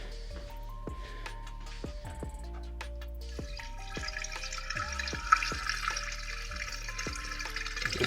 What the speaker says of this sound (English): there's a little bit of water just coming out of the spout right there